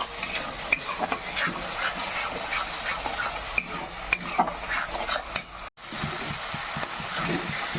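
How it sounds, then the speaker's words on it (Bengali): A spice masala with Kashmiri chili powder and salt is sautéed and stirred in a pan for a hilsa and bean dish, giving a steady close sizzle broken by frequent spoon scrapes and light clatter. "এবার আমি ভালো করে এটা কষিয়ে নেব"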